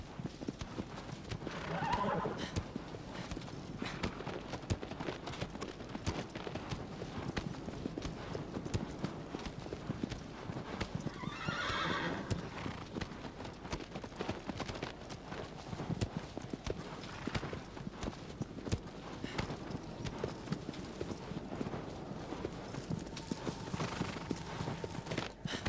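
A horse's hooves clop steadily across open ground in Shadow of the Colossus, with a long, continuous galloping rhythm and an occasional whinny.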